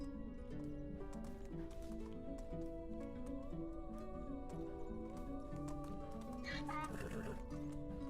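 A horse in the video game Medieval Dynasty gives a short whinny near the end, over steady hoofbeats and a layer of background music and ambience.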